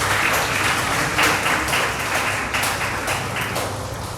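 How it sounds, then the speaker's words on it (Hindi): An audience at an essay and elocution competition claps loudly and densely as an award is handed over, the clapping continuing unbroken throughout. "जब अवार्ड इनके हाथ में हो तो फिर तालियां।"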